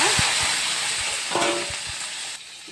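Onion, tomato, chilli and curry leaves fry in hot oil for a sardine curry, giving a continuous crackling hiss with a few soft knocks and a short metallic scrape partway through. No one speaks.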